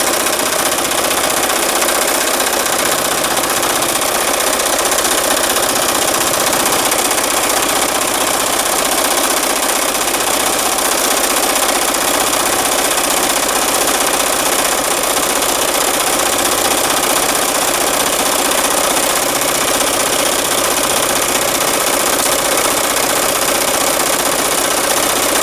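A sewing machine runs steadily while free-motion stitching a quick dragonfly doodle with thick thread, giving a loud, continuous mechanical whir and rapid rhythmic stitching with no talk.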